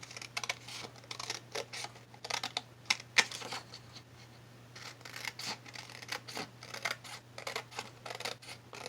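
Scissors snip through printed paper for a spring junk journal, with a close, crisp run of repeated cuts at an irregular rhythm and no talking.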